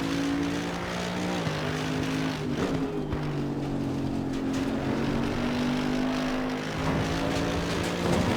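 A Mercedes-AMG GT3 Evo race car laps Monza in the Assetto Corsa Competizione racing game, its engine droning steadily at high revs with gear-change dips in pitch, loud and close throughout.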